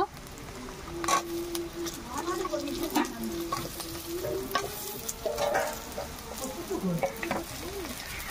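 Potatoes frying in a pan of oil for a tilapia fish curry give a steady low sizzle, with clinks and scrapes of stirring throughout, close and moderately quiet.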